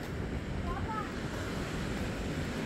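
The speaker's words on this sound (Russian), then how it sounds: "Штормик, ребят." Stormy sea surf at Arkhipo-Osipovka on the Black Sea coast, a steady broadband roar of waves under heavy wind buffeting the microphone, loud and continuous throughout with no clear separate breakers.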